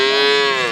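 A calf gives a single loud, close moo at a livestock market, a steady drawn-out bellow lasting under a second.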